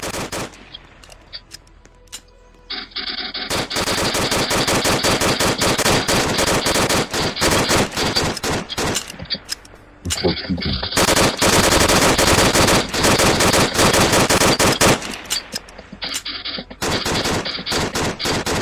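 Rapid Glock gunfire in the Roblox game Armored Ship Battles crackles in long, dense bursts with brief pauses, loud and close, and no talk over it.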